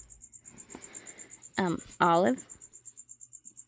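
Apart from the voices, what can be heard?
crickets chirping in reptile cages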